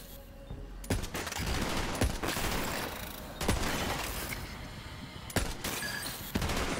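Rapid gunfire in the video game Borderlands 3, with dense loud bursts of automatic shots and sharp single cracks repeating throughout at close range.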